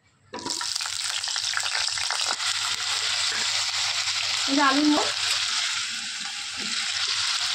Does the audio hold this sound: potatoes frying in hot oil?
yes